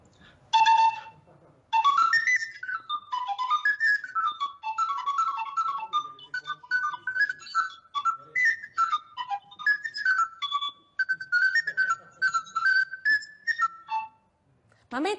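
A Sicilian friscaletto, a small folk cane flute, plays a lively tarantella in quick trills and runs for most of the stretch, bright and close, with no talk over it.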